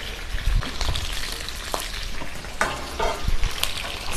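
Chillies, ginger, garlic, curry leaves and tomato frying in hot oil, a steady close sizzle broken by stirring scrapes and a few sharp crackles, with no voices.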